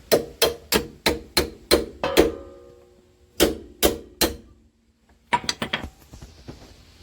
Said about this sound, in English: I'm going to keep banging away